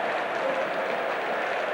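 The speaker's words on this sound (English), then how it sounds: "Getting a good reception too from the crowd." Football stadium crowd applauding Ravanelli during a 1992-93 Juventus vs Fiorentina match, a steady broadband wash of clapping from many spectators, loud and continuous throughout.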